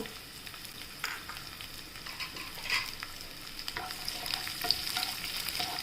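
Garlic sautéing in hot oil with cumin seeds, a soft continuous sizzle broken by stirring scrapes and small crackles, fairly quiet and close, with a few sharper pops and no speech.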